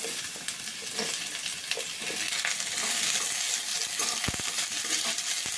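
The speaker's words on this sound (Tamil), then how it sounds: "ஆனியன் வந்து நல்லா வதக்கிக்கோங்க" Onions sizzle and fry steadily in a pan, a close, continuous crackling hiss with occasional scrapes of a stirring utensil.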